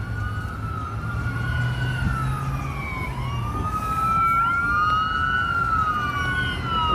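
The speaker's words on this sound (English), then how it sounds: "Where the sirens coming from?" Wailing emergency vehicle sirens rise and fall from behind a car on the road, sweeping continuously and loud over low road and engine rumble, with no talk.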